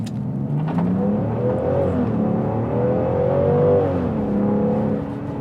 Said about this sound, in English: you just put your foot down, and the 90 just launches.